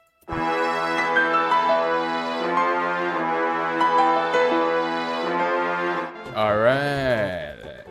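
A synthesized FL Studio lead melody layered with strings and washed in reverb plays sustained, bright notes at a moderate level, ending with a short wavering, pitch-bending phrase.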